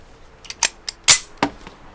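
An antique gun fires a rapid string of sharp, cracking shots, five or six close reports in about a second and a half, the loudest in the middle, with no voices.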